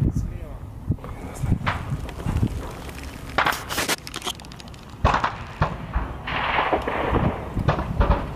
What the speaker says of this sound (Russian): Нет, из-за зеленки стреляют.